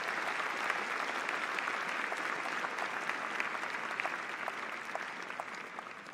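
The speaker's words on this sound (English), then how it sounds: "let us give all of those who have supported you along the process a big round of applause" At a university summer commencement ceremony, a large audience claps in sustained, dense applause that fills a big hall and stays steady throughout, with a faint murmur of the crowd beneath.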